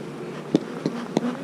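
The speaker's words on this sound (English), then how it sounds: "Lots of bees here." Honey bees buzz around an open hive, a steady close drone with individual bees zipping past the microphone in several quick swells.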